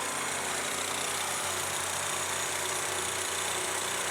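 A small snowblower engine runs steadily after an oil change, producing a loud, continuous drone with a fast, even pulsing and no pauses, alone with no voices.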